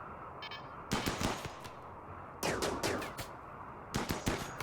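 Turret gunfire volleys in Rimworld during a raid on a tribal ice sheet base: three separate bursts of sharp, rapid cracks, loud and close, with brief quieter gaps between them.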